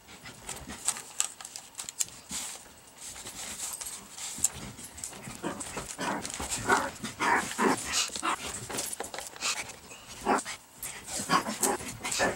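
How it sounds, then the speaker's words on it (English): Three dogs romp through a small apartment, with barking, panting, whimpers and yips coming in steady bursts throughout, fairly close and lively, with no talking. "there's like three dogs running around in my little teeny tiny apartment playing and having a great time"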